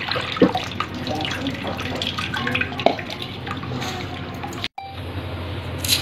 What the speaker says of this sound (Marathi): आता आपल्याला याच्यातलं पाणी सर्व काढून घ्यायचं आहे